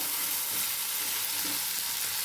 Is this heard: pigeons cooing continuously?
no